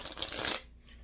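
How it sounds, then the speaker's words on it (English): A deck of playing cards riffled in one quick shuffle, a short crisp flurry of card flicks lasting about half a second, close and fairly quiet, then near silence. "And we're going to give this one more shuffle."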